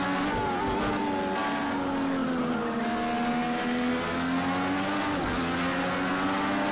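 A Formula Indy race car in Project Cars 2 accelerates hard, its engine note climbing steadily in pitch with gear changes and faint tire squeal, loud and close throughout with no talking.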